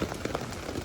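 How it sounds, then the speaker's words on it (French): Rain falling during the rainy season, heard from inside a tent, a steady close patter of drops on the surface with no other sound. "il pleut jusqu'à demain"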